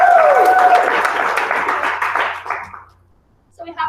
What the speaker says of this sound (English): let me get a round of applause for Sayla and Maggie